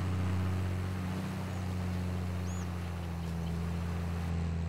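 A tractor engine in Farming Simulator 22 drones steadily under load while pulling a seeder, a constant low hum with a faint higher whine, continuous and unbroken throughout.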